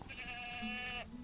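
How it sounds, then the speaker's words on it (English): A single goat bleat from the video game Ultima IX, one wavering, nasal cry lasting about a second, clear and alone. "Ooh, goat."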